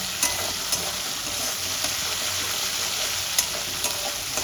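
Spice masala sizzles in oil in a pan while being stirred, a dense continuous crackle with occasional spatula scrapes, close and fairly loud, for a Bengali katla fish paturi with kochur loti and potato; no voices.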